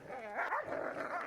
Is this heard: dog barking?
yes